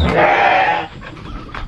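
A single loud, close goat bleat wavers for most of a second, followed by quieter rustling and a faint second call.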